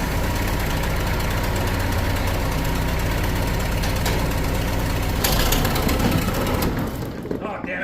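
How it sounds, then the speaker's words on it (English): A tractor engine idles with a steady, knocking rumble that briefly swells louder before cutting out near the end. "I'll bring the tractor over. I'm going to get it to start."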